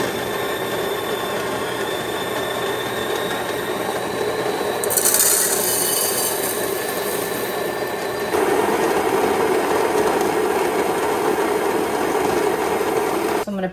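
An electric grinder steadily grinds coffee beans, a continuous rasping whir that grows slightly louder and harsher partway through, with no talking over it.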